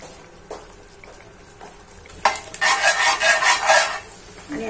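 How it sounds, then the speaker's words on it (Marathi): Pav bread toasting on a hot tawa griddle while pav bhaji is made, with a burst of scraping and sizzling in the second half after a quieter start. "आणि आता पाव भाजते मी इकडे तव्यावर"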